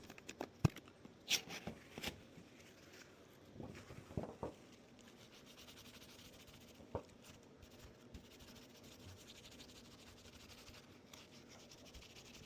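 A dirty screwdriver is scrubbed with a Snap-on cleaning wipe, giving close, quiet bursts of rubbing and scratching that come in short irregular strokes and then fade to a soft steady rub.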